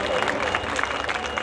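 Audience applause at an ex-servicemen's association function, with a brief patter of clapping from a crowd mixed with voices.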